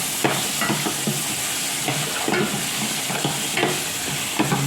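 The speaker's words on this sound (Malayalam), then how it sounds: "ഉപ്പും കൂടി ഇട്ടതിന് ശേഷം ശരിക്കൊന്ന് ഇളക്കി കൊടുക്കുകയാണ്." Ginger, tomato, green chili and curry leaves fry with salt in a pan, a steady close sizzle broken by repeated scraping stirs at a loose, regular rhythm, with no voices.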